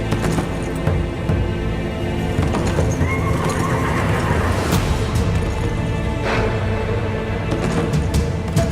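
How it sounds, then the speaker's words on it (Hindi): A riderless horse whinnies loudly while its hooves clop closer, the neigh and hoofbeats continuous and prominent over a dense, busy background. "शहजादे अलाउद्दीन का घोड़ा अकेला आ रहा है।"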